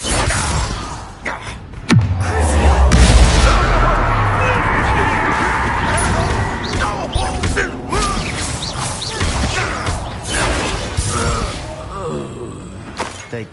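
A Bombarda spell explosion in Hogwarts Legacy goes off with a sharp blast, then a sustained rumbling crash and debris, loud and close, with talk partly over it.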